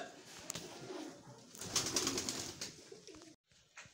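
Pigeons coo softly at a perch rigged from two sticks, low murmuring calls somewhat distant amid outdoor background noise, with a brief dropout near the end.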